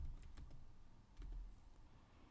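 Keys tapped on a computer keyboard during a Python coding demonstration, a few quick clicks in short bursts against a faint steady room hum, with no talking.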